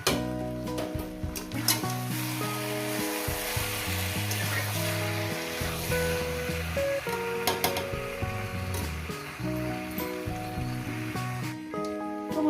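Mutton is sautéed kosha-style in a pan. It sizzles continuously and fairly loudly, with stirring rustles and scrapes over a tonal background throughout.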